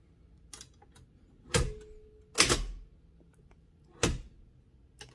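A 1914-1922 Empire No. 2 thrust action typewriter is typed on slowly, with a few sharp, separate key strikes spaced apart in a quiet room.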